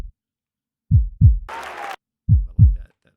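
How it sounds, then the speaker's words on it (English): Heartbeat sound effect in a song: two pairs of deep, loud thumping double beats, separated by a short burst of noisy hiss in the middle, with silence around them. "like that heartbeat."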